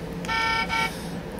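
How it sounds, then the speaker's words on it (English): A Transformers Battle Ops Bumblebee toy plays a short electronic car-horn honk, two quick bright toots in close succession, loud and alone. "Horn."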